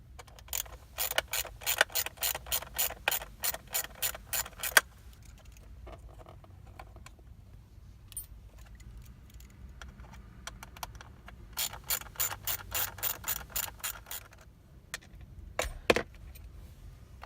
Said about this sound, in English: the next step is to take these 4 T15 screws out.